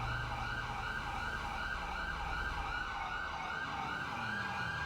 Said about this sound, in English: The siren isn't shutting off and it's annoying me.